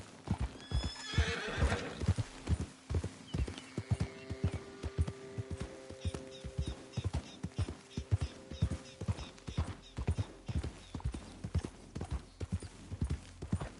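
Horse galloping in the Red Dead video game, with rhythmic hoofbeats running steadily throughout and a whinny near the start, under a quiet sustained musical tone.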